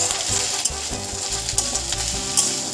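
Curry leaf paste sizzles steadily as it is stirred in a hot pan, a dense close frying hiss with soft intermittent scraping, no voices.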